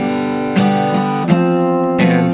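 Acoustic guitar strummed in a down, down, up rhythm, with bright full chord strokes ringing steadily and close, a few distinct strums over a couple of seconds with no voice.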